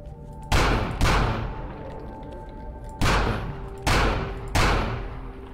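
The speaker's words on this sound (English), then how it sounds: "I'm gonna shoot that guy to death." Gunfire in the video game Final Station: five loud, sharp shots spaced unevenly across a few seconds, each with a booming decay, over a steady low game-ambience hum.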